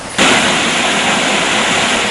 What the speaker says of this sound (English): The Balapat Alla is a waterfall that crosses several villages in the Tennahena area in Pittabedra.